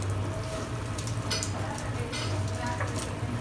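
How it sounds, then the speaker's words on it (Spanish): Onion going into a pan with sausages, a steady close sizzle and crackle of frying that runs through the whole stretch at an even level, with faint kitchen clatter on top. "Ya echar la cebollita, la vamos a poner."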